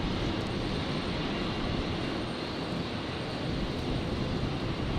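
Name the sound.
Dash 8 turboprop aircraft heading out at Brisbane Airport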